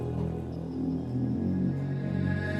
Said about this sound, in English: A little bell sound in Omnisphere,